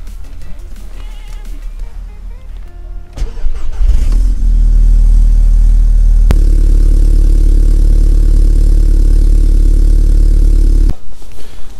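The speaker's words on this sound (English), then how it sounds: "So it's gonna be a cold start." Audi A3 8P engine cold-starting: a brief cranking burst, then it catches and settles into a loud, steady close-up idle that runs for several seconds before cutting off abruptly.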